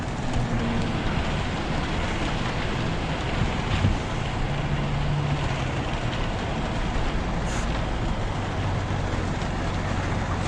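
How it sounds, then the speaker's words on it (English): Heavy pouring rain outside, a steady dense broadband hiss with no let-up throughout, no voices. "And it is pouring out, as you can see."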